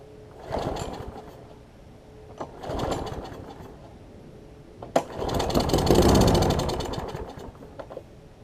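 A Troy-Bilt self-propelled lawn mower with an auto-choke carburetor fires up in a few short bursts, sputtering and dying, then catches and runs for about two seconds with a rough, buzzing rattle before stopping.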